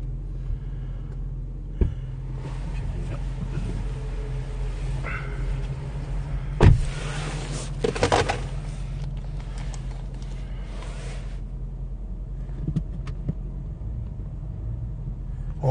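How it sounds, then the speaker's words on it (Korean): A Land Rover Discovery with 22-inch wheels idles after being started, a low steady engine and exhaust rumble with a few clunks and knocks partway through, fairly close and with no talk over it. "배기음 소리 자체가 틀리네"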